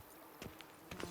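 A horse's hooves clop on ground in The Witcher video game, with a few faint, irregular hoofbeats over a short quiet stretch.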